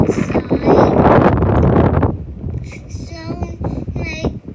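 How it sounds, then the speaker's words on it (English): Strong wind roars against the microphone outdoors during a Canadian snowstorm, a loud gusty rush for about two seconds before easing under a young person's talking. "it's super windy outside."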